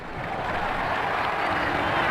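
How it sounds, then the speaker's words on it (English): Steady crowd applause and cheering from a cricket stadium in Ashes Cricket 2009, a continuous broad wash of clapping at moderate level. "The crowd enjoyed that shot."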